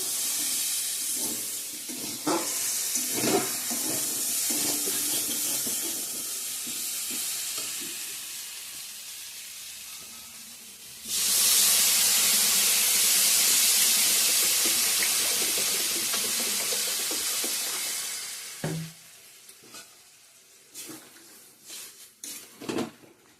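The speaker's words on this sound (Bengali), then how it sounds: "ভাজা ভাজা করা হয়ে গেছে জল দিয়ে দেবো এখন" Hot pan of fried sweet pumpkin and vegetables bursts into a loud, steady sizzle as water is poured in, hissing strongly for several seconds before fading, with scattered stirring clatter and utensil taps before and after.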